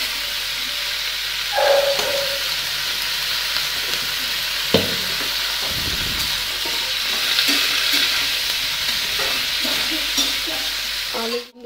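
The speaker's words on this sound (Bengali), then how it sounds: "পেঁয়াজ কলি আলু কড়াইশুঁটি ভাজা হয়ে গেছে" Onion stalks, potatoes and peas fry in a wok with a steady soft sizzle and hiss, broken by occasional scrapes and clinks of stirring; no talking.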